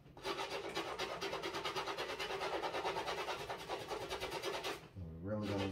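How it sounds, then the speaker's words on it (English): A brush scrubs a Yeezy 350 Zebra sneaker in a fast, steady back-and-forth rasp that runs for nearly five seconds, then stops as a low voice begins speaking. "Brush up a little at an angle. You get those front teeth in there. Get real good. Scrub inside."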